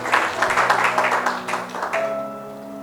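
A church congregation claps and applauds during a deliverance service, a dense patter of hands over a sustained tone that thins out toward the end.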